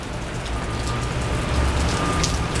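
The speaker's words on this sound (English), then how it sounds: "The rain has come, you guys. It finally came." Rain falls steadily and heavily, a dense hiss of drops hitting surfaces close by, constant for a couple of seconds with a low rumble underneath and no voices.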